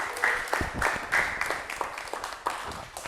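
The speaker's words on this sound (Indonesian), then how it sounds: "Beri tepuk tangan untuk kalian semua, Masya Allah." Students in a classroom clapping together, a brisk and fairly faint round of applause with rapid, overlapping claps that go on throughout.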